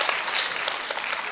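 A live crowd at a comedy battle final breaks into brisk, full applause, a bright, even wash of many hands clapping close by with no pauses.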